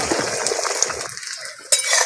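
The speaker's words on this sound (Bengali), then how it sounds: "তেলটা ভালো করে গরম হয়ে গেছে। ফেটিয়ে রাখা ডিমটা দিয়ে দিচ্ছি।" Beaten egg poured into hot oil in a wok, a brief burst of frying hiss with a metallic clink from a utensil, then a quieter moment before another clatter, close and with no talk.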